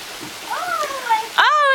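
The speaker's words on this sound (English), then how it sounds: "Oh, it's raining all over you again." Rain falling outdoors while someone speaks throughout in a high, sing-song voice, the steady patter staying faint beneath her talk.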